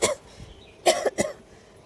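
A woman who is unwell with a cold and fever coughs: one short cough, then after a pause two more close together, fairly near and clear with no talk over them.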